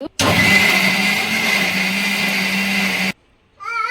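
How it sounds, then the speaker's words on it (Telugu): A kitchen mixer grinder whirs steadily as it grinds raw tomatoes with coriander for a traditional dried red chilli tomato chutney, running loud and even for about three seconds before cutting off, followed by a brief voice. "దాంట్లో ఉన్న టమాటాలు కూడా వేసి గ్రైండ్ చేసేద్దాము"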